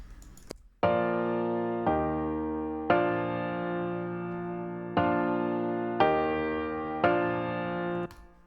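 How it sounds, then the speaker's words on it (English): Grand piano chords with a 70s pop tone, run through a FET-style Logic compressor: six sustained chords struck at a steady, even pace, each ringing and slowly decaying before the next, clear and close with nothing else present. "I wanted to achieve the 70s kind of a piano sound,"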